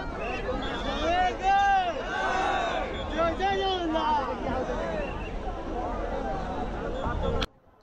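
Large crowd of devotees gathered on the grand road in Puri for the Suna Besha festival of Jagannath, a dense babble of many voices and shouts with a narrator speaking over it, cutting off abruptly at the end.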